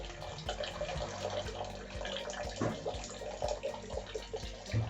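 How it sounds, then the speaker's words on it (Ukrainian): Water pours steadily from a tap, a constant splashing rush with faint clinks, close and alone without talk. "пускає воду"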